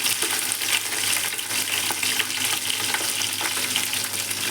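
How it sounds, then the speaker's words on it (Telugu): Cinnamon, cloves, cardamom, mint, green chilli and shahjeera frying in oil for mutton biryani, a continuous close sizzle with light crackling and occasional stirring scrapes, no speech. "చెక్క, లవంగాలు, యాలకులు, పుదీనా, పచ్చిమిర్చి, షాజీరా మంచిగా కుక్ అవుతున్నాయి"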